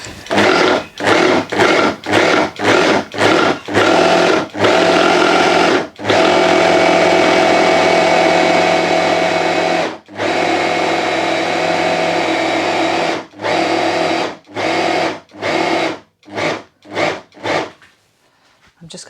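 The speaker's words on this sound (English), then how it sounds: "And we just need to blend this now." A blender whirs loudly through a shami kebab mixture, first in a run of short pulsed bursts, then a long steady grind, then more stop-start pulses that trail off.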